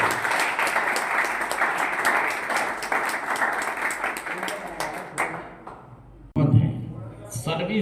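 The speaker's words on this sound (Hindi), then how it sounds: "ताली" An audience at a gathering celebrating freedom from addiction claps for Prakash, loud dense applause that gradually thins and dies away, followed by a voice and other sounds after a brief pause.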